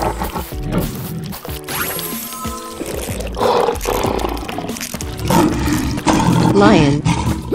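A lion's roar rumbles out amid busy layered noise and voices, swelling loudly a few times across the clip.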